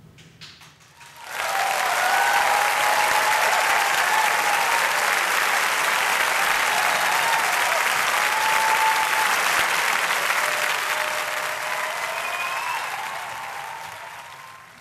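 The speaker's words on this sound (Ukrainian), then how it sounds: "я передаю вам аплодисменти наших онлайн-глядачів і їхнє прохання подарувати нам ще одну мелодію" Sustained, loud applause from a festival audience for a jazz musician at an outdoor jazz fest, swelling quickly after a brief quiet start and holding steady for many seconds before slowly tapering off.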